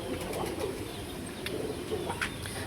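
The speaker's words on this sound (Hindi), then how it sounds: "ये लाल आँखों के रिंग वाले कबूतर हैं ये" Repeated bursts of wing flapping from red-eye-ringed pigeons nearby, with soft cooing and chirps mixed into a constant background hiss.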